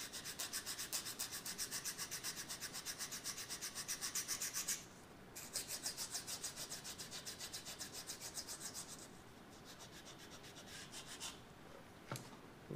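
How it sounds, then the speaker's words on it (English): Sanding an airfoil profile into a small wooden model rudder by hand, with quick rhythmic rasping strokes close by, a short pause, then lighter scraping strokes. "I'm going to sand a little bit of an airfoil profile here into my rudder"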